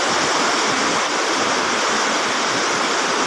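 Clear water flows steadily and loudly, a continuous broadband rush with no pauses, close by, with no voices over it.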